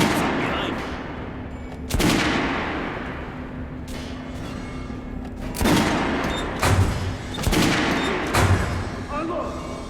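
Automatic gunfire in the video game Metro Last Light, heard as several sharp loud bursts at irregular intervals over a steady low background drone, with a voice faintly present at times.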